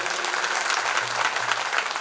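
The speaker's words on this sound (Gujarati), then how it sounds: "એટલે એકવાર આમદાર સાહેબ માટે જોરદાર તાળીઓ વધાવી લઈ" Audience applause at a Mumbai birth-anniversary festival celebration for a local legislator, a continuous wash of many hands clapping at moderate distance for two seconds, steady and even.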